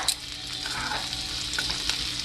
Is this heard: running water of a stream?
no